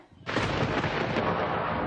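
A thunder sound effect for Thor's lightning bolt on a comedy news show cracks in suddenly and rolls on as a loud, sustained, rumbling roar with no voices.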